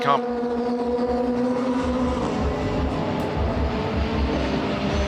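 Toyota prototype race cars running nose to tail in the 24 Hours of Le Mans, a loud, sustained engine drone with a whining harmonic tone that holds steady throughout, under a commentator's voice.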